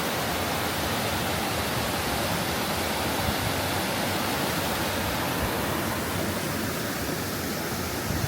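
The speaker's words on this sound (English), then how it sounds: "There's the waterfall." A steady, loud rush of falling water roars without pause, broad and constant like a nearby waterfall.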